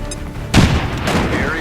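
A grenade goes off in the XCOM 2 video game, a sudden loud blast with a rumbling, crackling tail that lasts about a second, preceded by faint game sounds.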